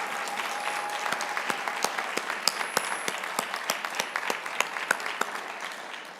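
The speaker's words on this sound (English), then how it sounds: "let's give her a round of applause." Audience applause after an introduction at a spiritual gathering, a steady wash of many hands clapping with a few sharper claps standing out, holding evenly throughout at moderate volume with no speech.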